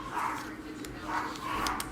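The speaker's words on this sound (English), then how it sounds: "Even the dogs are amping." Dogs bark and yip in short bursts at a moderate distance, blending with background noise and voices in the room.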